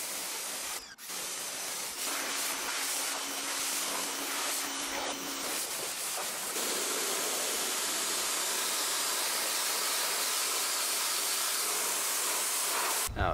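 A pressure washer sprays down a car before foaming, giving a steady, close, broadband hiss that runs almost unbroken for the whole stretch, with a brief dip near the start and no talking.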